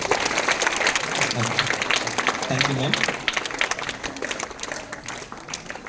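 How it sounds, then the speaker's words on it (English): Students and staff clap for award winners at a school assembly, a continuous wash of applause that thins toward the end, with voices speaking over it. "Give me a huge round of applause, ma."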